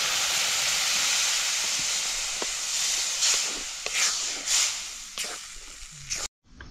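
A spiced tempering of masala and chilli in a pan hisses and sizzles steadily after water is added as it comes to a boil, with scattered bubbling pops, before stopping abruptly near the end.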